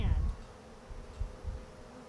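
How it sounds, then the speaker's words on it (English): Honey bees buzz faintly around a hive during a transfer, a low soft drone with a few brief swells, close by and alone. "this group of bees in here, they seem pretty tight"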